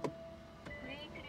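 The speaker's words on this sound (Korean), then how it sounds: "이런 식으로 핸들이 내려오고 시트를 조금 당겨줍니다." A Kia K7 Premier Hybrid with a memory seat, right after the engine is started: the power steering column lowers and the seat slides forward with a faint, steady electric motor whine and a couple of soft clicks.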